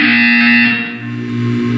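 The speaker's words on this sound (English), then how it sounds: "When you hear the buzzer, look up at the ceiling." A loud, harsh electronic buzzer from the Portal 2 video game sounds as one sustained, distorted tone lasting about two seconds.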